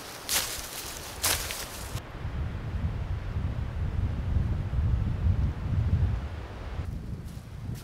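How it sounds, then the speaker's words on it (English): Steady winter mountain wind roars and buffets against the microphone, with a few sharp gusts of rustling early on; no voices. "It's windy up here."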